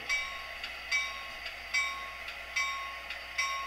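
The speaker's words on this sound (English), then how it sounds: "Our locomotive's next task is to pick up the 2 empty boxcars that it brought with it" Model railroad locomotive moving along the layout to pick up two empty boxcars, heard as faint regular rail clicks and metallic ticks repeating roughly every second, with a soft motor hum and no talking.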